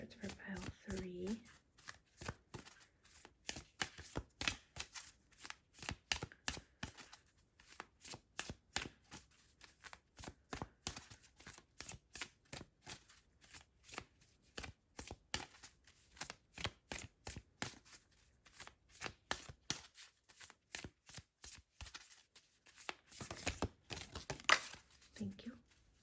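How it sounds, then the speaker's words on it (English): Tarot or oracle cards are shuffled in a long, rapid sequence of crisp riffling slaps, close and fairly quiet, with a voice speaking briefly near the start and again toward the end. "I'm going to pull a couple more Spirit's advice cards for pile 3."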